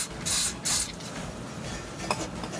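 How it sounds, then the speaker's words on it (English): Two short hissing bursts of aerosol lubricant sprayed onto a stuck, rusted rear ABS sensor on a Dodge Journey / Fiat Freemont, each about a quarter second long and close to the mic, followed by faint workshop noise. "So let me just spray a little bit more there."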